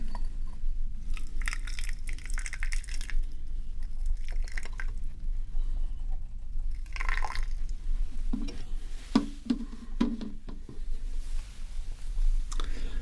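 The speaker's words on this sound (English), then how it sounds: "and then add the water." Water is poured over tea leaves sitting in a filter at a quiet tea shop, giving soft, close trickles and drips with faint squishy, wet textures and no speech.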